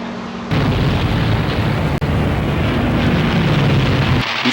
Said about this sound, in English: Oh, there's a P-51 pulling up.